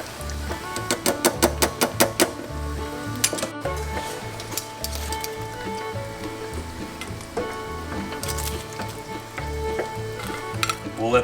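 Spring roll dove poppers fry in hot grease with a steady, dense sizzle and crackle throughout, while a low rhythmic thumping of background music plays along with it.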